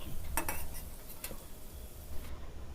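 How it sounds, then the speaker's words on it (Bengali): A utensil clinks a few times against a pan as pieces of fried papaya are lifted out of hot oil, the sharp metallic taps quick and separated over a soft background hiss. "এখন এই পেঁপেটা আমি তেল থেকে তুলে নেব।"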